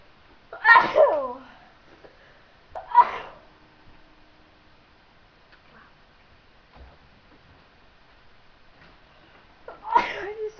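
A person sneezes three times, close and loud, triggered by looking at the sun, with long quiet gaps between the sharp bursts.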